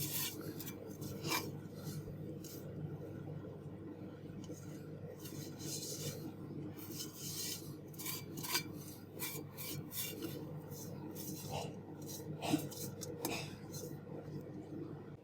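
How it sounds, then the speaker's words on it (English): A big spoon mixing a thick batch of lime pickle, a continuous close rasping and scraping with irregular louder knocks against the container, low and steady throughout. "This is going to be fun to mix. We'll need a nice big spoon out to do that."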